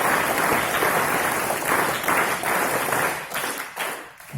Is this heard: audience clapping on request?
yes